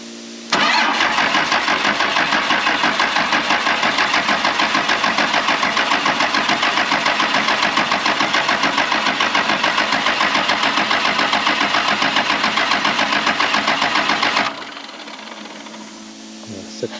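Dodge 2500 pickup with a 12-valve Cummins diesel that sat for 15 years, cranking and then running in a loud, steady rumble with rapid rhythmic pulsing for about fourteen seconds before cutting to a quieter background.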